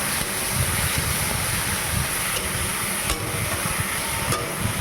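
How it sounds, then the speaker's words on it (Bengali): Onion, tomato and spice paste fries in a pan with a loud, constant sizzling hiss, and occasional faint clinks of the stirring utensil sound through it. "মশলাটাকে আমি একটু ভেজে নিচ্ছি"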